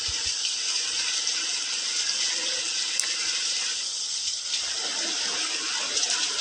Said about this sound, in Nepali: खतरनाक पानी परिरहेको छ.